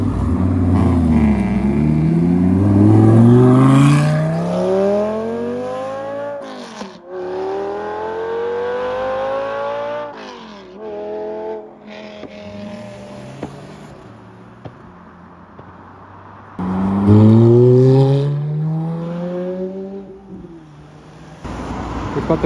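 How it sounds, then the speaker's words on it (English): A Ferrari F12 Berlinetta engine revs hard several times, rising and falling in sharp bursts, loud and close, with pauses of idling between, at a Cape Town car meet. "this absolutely stunning Ferrari F12 Berlinetta over here, pulling up as some guys are leaving"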